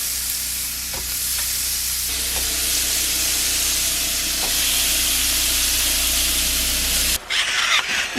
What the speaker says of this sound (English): And we're going to get the chopped meat going.